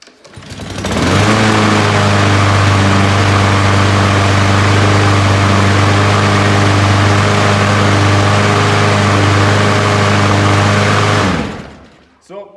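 A 2020 Craftsman mower engine starts and runs steadily at a loud, even drone for about ten seconds, then shuts off and winds down, recorded up close.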